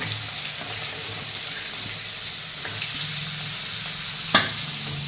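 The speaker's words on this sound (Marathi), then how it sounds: "तर हा एवढा कांदा टाकायचा म्हणून तेल टाकलं आता कांदा चांगला मऊ होईपर्यंत आणि थोडासा तांबूस होईपर्यंत चांगलं शिजू द्यायचं आहे" Onion sizzles in oil in a pan for a village-style vegetable dish, a steady close frying hiss with a faint clink and a sharp knock near the end.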